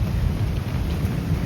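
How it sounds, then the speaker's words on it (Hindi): Heavy rain pours down in a field with rumbling thunder, a dense, steady low roar that stays loud and constant with no talk over it. "देखो कितनी तेज बारिश पड़ रही है"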